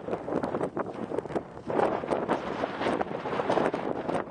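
Strong mountain wind buffets the microphone in gusty, rumbling bursts, loud and continuous, with the sound swelling and easing throughout.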